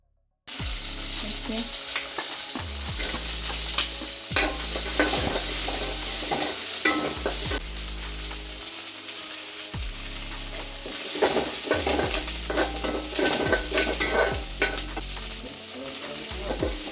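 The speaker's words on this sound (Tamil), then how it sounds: "அப்புறமா கடாயில் கொஞ்சம் எண்ணெய் ஊற்றி ஒரு கைப்பிடி அளவுக்கு சின்ன வெங்காயம், பூண்டு, சின்ன துண்டு இஞ்சி எல்லாத்தையும் வதக்கி எடுத்துக்கலாம்." Small shallots, garlic and a small piece of ginger sizzle steadily in oil in a kadai, with a spoon scraping and stirring in repeated strokes close by.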